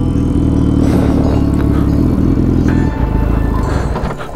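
A Suzuki Hayabusa motorcycle engine idles with a loud, steady, close rumble, then its drone sags and weakens toward the end as the bike stalls.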